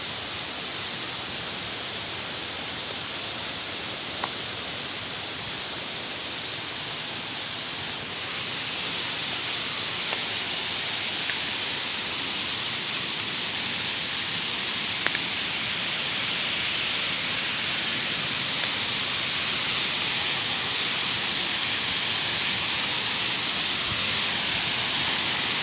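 Sarika Waterfall in Nakhon Nayok pours in a constant broadband rush of falling water, a steady hiss heard close and loud throughout with a slight shift in tone partway through.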